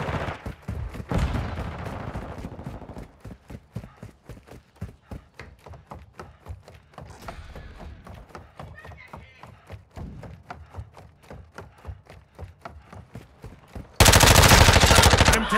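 Rapid automatic gunfire in a Call of Duty: Modern Warfare II multiplayer Domination match crackles in repeated bursts throughout. The shots are moderately loud, and a loud blast of noise hits at the very end.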